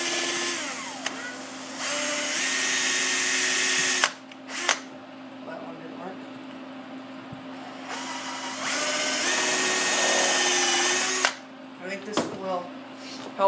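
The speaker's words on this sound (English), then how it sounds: "I'm actually going to drill a hole on the other side just to put another set screw" A power drill whines loudly in two long bursts of several seconds each, drilling a set-screw hole while building a disc sander, with short quieter gaps and faint handling noises between them.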